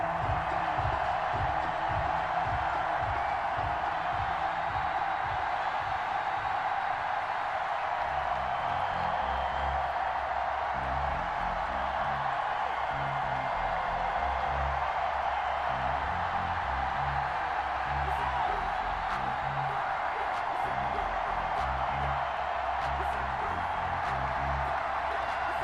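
Stadium crowd at FedEx Field in Washington before kickoff against the New York Giants, a broad distant roar with faint cheers and a rhythmic thumping beat underneath, steady and fairly quiet.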